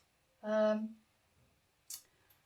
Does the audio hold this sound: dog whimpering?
no